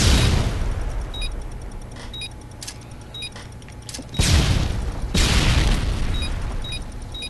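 In-game explosions in Call of Duty: Modern Warfare 2 multiplayer: two heavy booms with broadband blasts, the first around four seconds in and a second a second later, over a dense backdrop of gunfire and metallic clinks.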